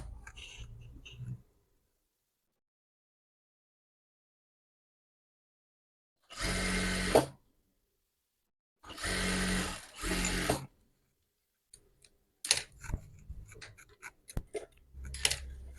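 A sewing machine stitching a white round-neck garment runs in a few short separate bursts, each about a second long, with silence in between and faint handling noises toward the end.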